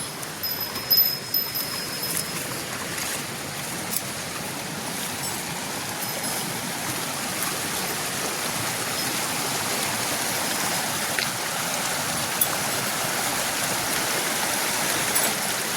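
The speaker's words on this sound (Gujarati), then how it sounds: "ખળ ખળ વહેતી" The Kalodri river near Bhaguda flows and gurgles steadily, a continuous rushing wash of water at even loudness with no voices.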